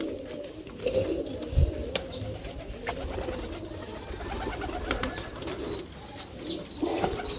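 Jalali pigeons coo nearby in a loft, giving several soft, throaty calls that overlap irregularly over a background of rustling and chirps.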